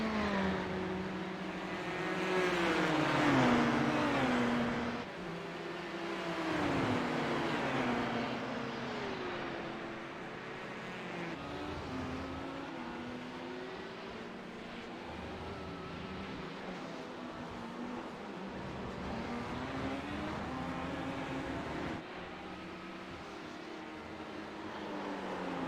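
A pair of LMP prototype race cars in a racing game at Monza drone past with rising and falling engine pitch, steady and fairly loud, with no voices.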